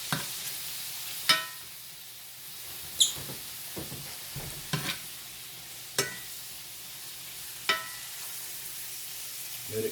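Hamburger casserole with potatoes sizzles steadily in a pan while a utensil scrapes and stirs it, sharp scraping strokes recurring every second or two over the constant frying hiss.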